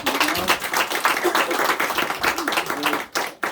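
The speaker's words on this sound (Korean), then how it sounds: "우리 하나님께 영광의 박수를 올려드리겠습니다" Applause from a church congregation during a Sunday morning worship service, dense clapping that fills the room for a few seconds, with a murmur of voices and a brief dip near the end.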